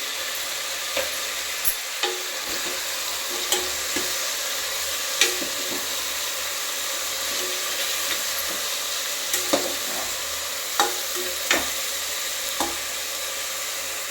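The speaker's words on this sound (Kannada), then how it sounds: "ಚೆನ್ನಾಗಿ ಮಿಕ್ಸ್ ಆಗೋವರೆಗೂ ತಿರುಗಿಸ್ಬೇಕಾಗುತ್ತೆ" Mutton sambar tempering is stirred in a pan under a steady frying sizzle. Scattered scrapes and clicks of the spoon against the pan sound close by, with no talking.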